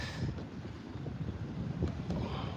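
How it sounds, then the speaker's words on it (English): Wind blowing hard by a sea wall on a coastal walk in the Philippines, a steady broadband roar buffeting the microphone for the whole stretch, close and continuous with no talk. "It's a little windy over here."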